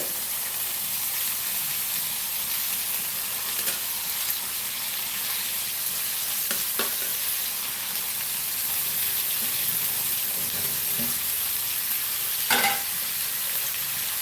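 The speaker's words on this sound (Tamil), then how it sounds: "நம்ம இதை காராமணியும் இந்த பருப்பையும் இதில் போட்டுடலாம் இந்த பொரியலுக்கு" Cowpeas and lentils stir-fry for poriyal in a hot pan, giving a loud, continuous sizzle with a few sharp scraping stirs, up close and with no talking.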